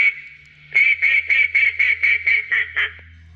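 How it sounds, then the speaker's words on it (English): An electronic duck call from a Dogtra bird launcher, triggered by remote, gives a run of about nine quick, evenly spaced nasal quacks, loud and close, with no talking. "So I'll run the duck call"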